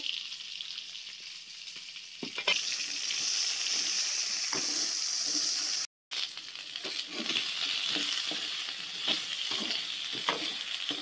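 Fish fries in a pan at home with a steady, close hiss, punctuated by occasional light clicks and taps, with a brief dropout in the middle.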